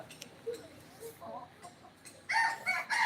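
A chicken crows and clucks close by in an outdoor village setting, with short scattered clucks giving way to loud, rising crowing bursts near the end.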